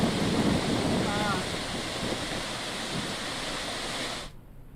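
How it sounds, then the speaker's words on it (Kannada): Gokak Falls in Belagavi district, swollen by flood, sends out a continuous broad roar of rushing water mixed with wind buffeting the microphone, which cuts off abruptly near the end. "ಗೋಕಾಕ್ ಫಾಲ್ಸ್ ಭಾರತದ ನಯಾಗರ ಅಂತಲೇ ಪ್ರಖ್ಯಾತಿ ಪಡೆದಿರುವಂತಹ ಜಲಪಾತ"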